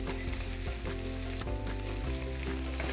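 Fresh chopped garlic frying in a hot pan, a loud, close, steady sizzle with crackling that continues without a break, no talking.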